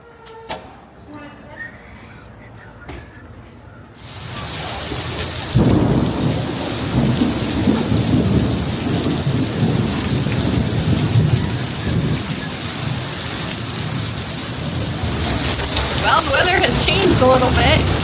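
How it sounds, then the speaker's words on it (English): Heavy rain pours steadily over an outdoor street in St. Augustine, Florida, with thunder rumbling through a loud, continuous storm after a quieter opening few seconds; no talk is heard. "It's thundering."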